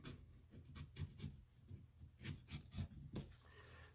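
A small knife carving into a raw potato to shape a face, a run of soft, close scraping and cutting strokes in an uneven rhythm, quiet and with no speech.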